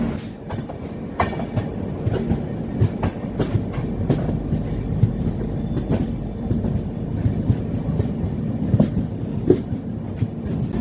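The Mandovi Express passenger train rolls steadily out of a station on the Konkan Railway, with a low rumble and a regular clickety-clack of wheels over rail joints, sustained throughout with no talking.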